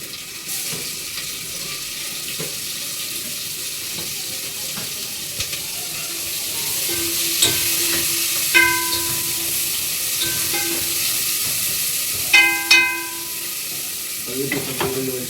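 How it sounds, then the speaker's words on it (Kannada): Onions sizzle in hot oil with ginger-garlic paste for chicken biryani, a steady frying hiss with occasional stirring scrapes and a few clinks of a utensil against the pot, no voices. "ಸ್ವಲ್ಪ ಈರುಳ್ಳಿ ಹಾಕ್ಬೇಕು ಇವಾಗ."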